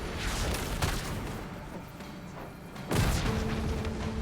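An explosion in the fantasy video game Dragon's Dogma II: a muffled blast rumbles through the battle, then a second, sharper booming burst hits near the end, with a sustained roar trailing after.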